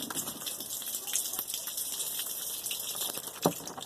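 Water trickles and patters as it is poured onto seedlings in coco coir, a steady soft splashing hiss with small drips throughout and a light knock near the end.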